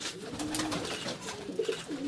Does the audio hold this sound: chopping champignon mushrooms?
no